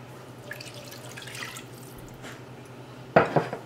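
A cup of hot water is poured into a bowl holding olive oil for pizza dough, with a faint trickle giving way to a brief, louder splashing pour at the end.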